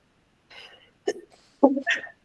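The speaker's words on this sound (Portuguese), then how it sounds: "Tossi um pouquinho." A few short, separate coughs from a lecturer during an online analytical chemistry class, close and fairly soft, with brief pauses between bursts and no other sound.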